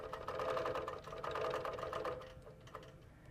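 A sewing machine stitches steadily along a curvy ruler, a quarter inch from the seam, its rapid even needle chatter running close and continuous with a brief slowing partway through.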